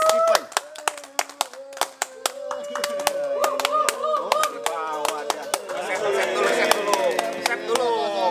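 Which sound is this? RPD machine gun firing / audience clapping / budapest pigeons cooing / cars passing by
audience clapping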